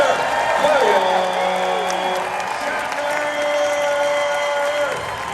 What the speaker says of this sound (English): Let's make some noise for Mr. William